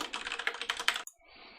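Rapid, steady typing on a computer keyboard, close and clicky, runs for about a second and then stops abruptly, leaving a faint hiss of room noise.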